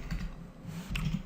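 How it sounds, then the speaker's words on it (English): A few soft keystrokes land on a computer keyboard while a JavaScript function is written, muffled and close, in two small bursts. "so now we type document right"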